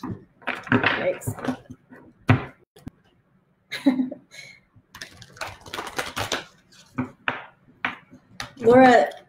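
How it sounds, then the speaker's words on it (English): A short bright ping rings out near the end, following stretches of conversational speech with pauses. "There's a notification popping up"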